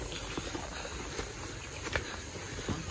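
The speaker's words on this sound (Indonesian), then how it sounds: "Udah gerimis, guys." Light drizzle pattering steadily at a lakeside camp, a soft, even hiss of fine raindrops with a few faint taps, close and continuous throughout.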